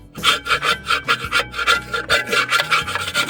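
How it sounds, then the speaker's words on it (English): A chisel scraping hard liner material off a brake part, a close rhythmic grating rasp in quick strokes, about a dozen in a row, with no talking. "And then I'm going to take my chisel"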